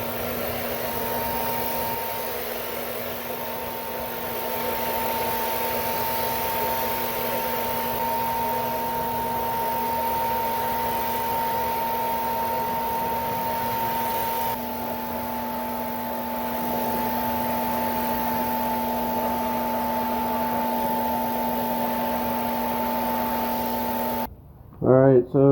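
A spray gun misting a second coat of water-based polyurethane onto a solid wood dining table, a loud, steady hissing roar with an even hum that runs without pause almost to the end, where a brief clatter cuts in.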